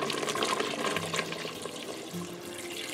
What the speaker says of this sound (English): So now we're gonna add in our water.